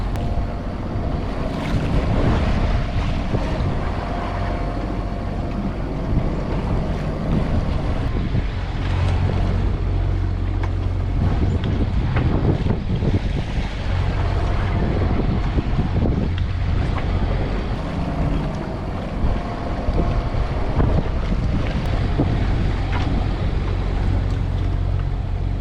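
Wind rises offshore around a sailboat on a passage from Alaska to Washington, with continuous rushing gusts, wind buffeting the microphone and water washing against the hull, loud and unbroken with no voices.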